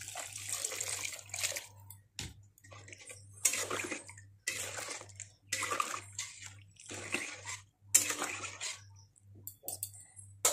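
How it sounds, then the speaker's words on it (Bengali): Water splashed into a pot of lentil dal made with jackfruit seeds, several short pours in irregular bursts, moderately close, over a steady low hum. "এবার আমি এটাতে দিয়ে দিচ্ছি জল।"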